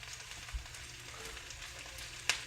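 Onions and radicchio sauté in a skillet, giving a soft, steady sizzle and gentle stirring. One brief louder clatter comes near the end.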